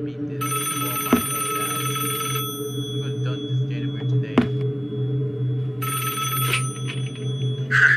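A telephone rings in the horror video game Five Nights at Wario's 2: two long bursts of electronic ringing over a steady low ambient drone, with a few sharp clicks in between.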